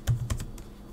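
A few quick keystrokes on a computer keyboard while a terminal command is entered, close and clear, with no one talking.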